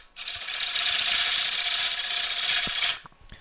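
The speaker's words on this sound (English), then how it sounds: "this is a back hollowing cut" A back hollowing cut on a wood lathe produces a loud, rough, rasping tool-on-wood scrape that holds steady for nearly three seconds and then cuts off, followed by a few faint knocks.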